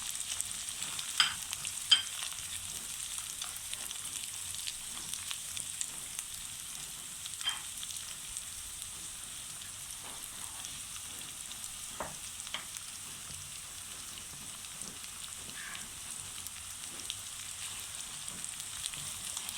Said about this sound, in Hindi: अब मैं इसको फ्राई करती हूँ।